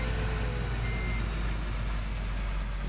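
A truck in Farming Simulator 17 reverses, its backup beeper sounding steadily over a constant low engine rumble.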